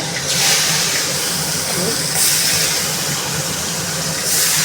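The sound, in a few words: katla fish frying lightly in oil in a wok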